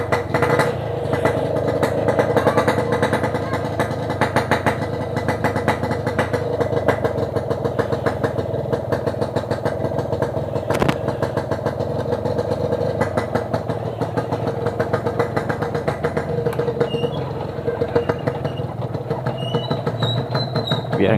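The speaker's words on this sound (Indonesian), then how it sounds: "cek sound knalpot packing power yang kemarin itu" A Yamaha RX King two-stroke motorcycle fitted with a packing power exhaust idles and revs nearby in a narrow alley, a loud, steady, rattling drone with rapid pulsing that continues for the full stretch.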